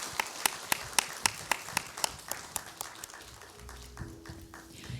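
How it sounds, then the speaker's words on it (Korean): A church congregation claps at a Sunday service, a run of distinct rhythmic claps that gradually fade into softer scattered applause, with low sustained tones entering toward the end. "박수 올려드리겠습니다."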